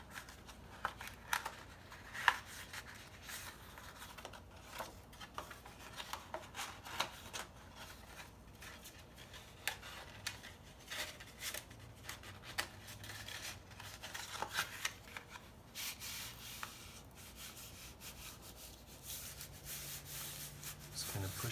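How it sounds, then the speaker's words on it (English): Paper insert layer of a gingerbread man holiday card slid into slits of the outer card, giving soft, continuous rubbing and papery scraping with small rustling taps, quiet and close, with no talk. "take your insert layer, and just feed it into the slits in the outer card."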